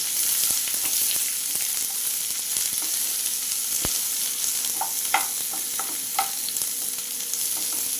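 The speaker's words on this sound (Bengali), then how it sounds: "পেঁয়াজগুলো আমি নেড়ে চেড়ে একটু ভেজে নেব।" Sliced onions frying in a small amount of oil for an okra (bhindi) dish, being stirred with a steady close sizzle, occasional spatula clicks and scrapes against the pan, no voices.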